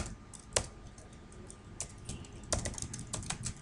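Typing on a computer keyboard while entering HTML form code, a scattered run of close, quiet key clicks with brief pauses and a few louder strikes, no voices.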